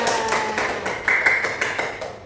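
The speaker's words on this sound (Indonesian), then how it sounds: "tepuk tangan buat semuanya" A small group claps together in a classroom lesson, a short burst of light, scattered handclaps with a few sharper taps standing out, fairly close and unaccompanied by talk.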